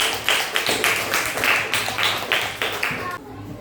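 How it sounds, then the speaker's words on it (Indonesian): A classroom of students claps for a group of classmates, a loud close rhythmic burst of unison claps at a steady beat lasting about three seconds, then cutting off abruptly. "tepuk tangan untuk kelompok belakang"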